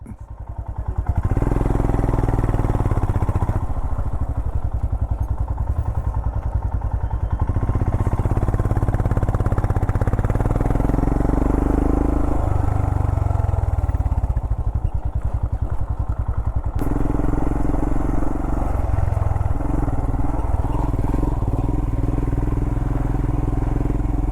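A Royal Enfield Himalayan motorcycle climbing near Red River, New Mexico, its single-cylinder engine thumping loud and close throughout, with rising and falling revs and some clatter from the rough ground.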